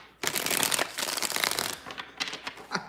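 Tarot cards being shuffled close up, a dense riffling flutter lasting a couple of seconds followed by a few lighter card taps and slides.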